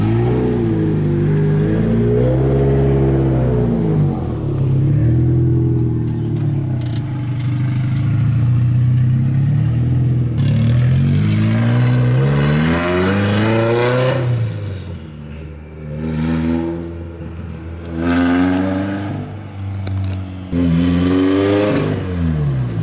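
A turbocharged Toyota FRS engine idles loudly and then revs up and down through its exhaust. Several rising and falling sweeps come from close by, with no talk over them.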